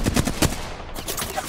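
Rapid automatic gunfire from the Overwatch video game crackles in quick repeated bursts, loud and close, filling the short moment.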